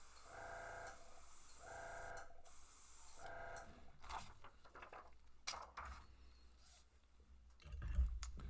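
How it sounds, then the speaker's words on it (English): Airbrush spraying gray shading paint through a stencil onto a Garmin LiveScope ArcLab shuttle, heard as short hissing bursts in repeated spurts, then irregular clicks and taps close by, with no talk. "we'll keep the shading gray in the airbrush"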